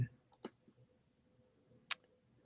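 Quiet clicks on a MacBook Air as a start video button is pressed in an online meeting, a few sharp separate taps spread over a couple of seconds against low background noise.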